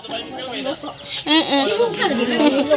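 Ducks calling in a farmyard, several close, loud nasal quacks and clucking calls in quick irregular bursts, with no speech over them.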